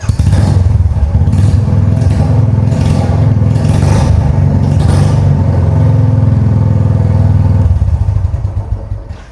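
A second-hand blue 2019 Royal Enfield Bullet with a BS4 engine and beat silencer idling close and loud, a deep, steady thumping exhaust beat that dies away near the end, with no speech.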